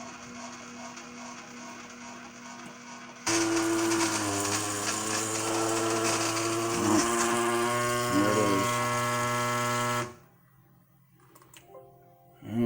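A benchtop DIY CNC machine cutting its first chips, a loud whining spindle tone with shifting pitch that cuts in abruptly, runs about seven seconds, then stops; a quieter motor hum comes before it.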